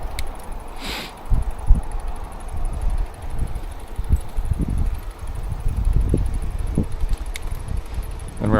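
Wind buffets a microphone outdoors while cycling, uneven low gusty rumbles rising and falling, fairly close with some rustle, no talk.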